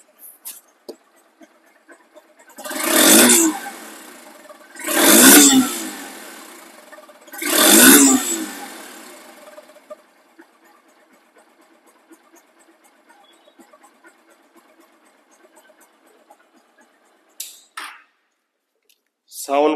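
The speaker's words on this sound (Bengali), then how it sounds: "তো বাইকটির সাউন্ড কোয়ালিটি শুনুন।" A second-hand Honda X Blade motorcycle with ABS and double disc brakes is revved three times in quick succession, each loud rising-and-falling roar separated by a short pause, then settles to a quiet idle with a few clicks.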